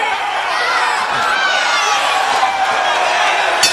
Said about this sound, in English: Josh Hinger getting the crowd excited here